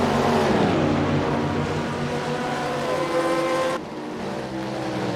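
Porsche race car in a racing video game, its engine screaming loudly at high revs with a steady harmonic whine and a brief drop in pitch near the end as the throttle eases slightly.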